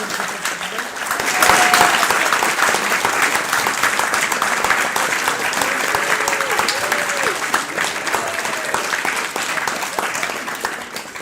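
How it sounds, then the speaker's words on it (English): An audience at the Victoria Festival of Authors applauds steadily for several seconds, a dense, even wash of clapping with a few voices faintly audible beneath it. "Big round of applause for everyone."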